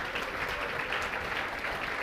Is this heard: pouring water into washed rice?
no